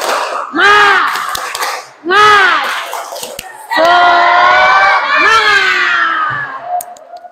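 A group at a classroom ice-breaker does a clapping chant, with loud unison shouts in short bursts, a longer sustained cry and scattered claps between them.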